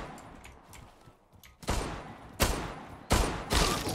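Single shots from a Deagle pistol in the online shooter Zula, four loud, close reports spaced about a second apart after a quieter lead-in, each with a sharp crack and a short decay.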